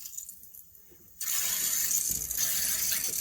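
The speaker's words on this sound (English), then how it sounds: "let the water come in nice and slow" Water rushes steadily into a boiler system through a hose from a slowly opened lower fill valve, a continuous near hiss that starts abruptly and holds.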